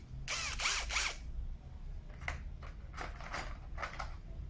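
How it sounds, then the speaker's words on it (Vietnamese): A compact SfunPro 16V cordless screwdriver drill spins up in short whirring bursts, two strong early runs followed by several lighter, clicking pulses, close by with no talk. "giờ sẽ đi test thử con bắn vít cho anh em coi khả năng cái bắn vít nó như thế nào nha"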